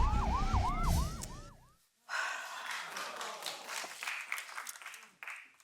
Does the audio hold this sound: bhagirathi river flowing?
no